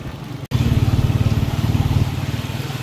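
Motorcycle engines putter loudly and close in busy Kota city traffic, a steady pulsing drone after a brief cut, with no talk over it.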